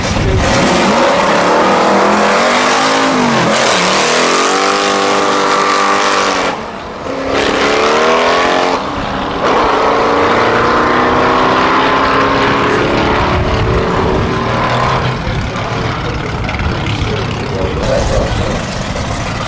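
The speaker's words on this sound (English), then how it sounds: "the cars are coming into the fire up lane behind me and will be making their way down onto the track" Loud drag race cars rev and roar continuously at a no-prep quarter-mile event at Manston Raceway, pitch climbing and falling as they accelerate, close by and dominating throughout.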